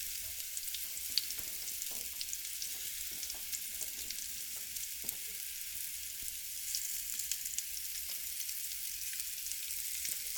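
Chilled Swedish meatballs sizzle in olive oil in a medium-high pan, a continuous bright crackle and hiss with scattered pops and light stirring noises, steady and close, no voices.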